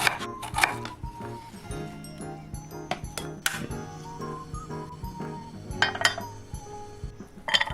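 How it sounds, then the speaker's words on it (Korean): A kitchen knife slices radish into thin strips on a cutting board for radish ramen, a run of quick sharp knocks and clinks in uneven bursts, close and fairly quiet, with no talk. "그리고 무채를 썰어요."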